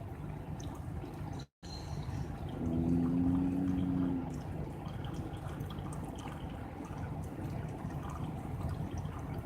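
Creamer poured into a cup of coffee inside an old VW bus, a soft steady trickle lasting a couple of seconds amid quiet background hiss.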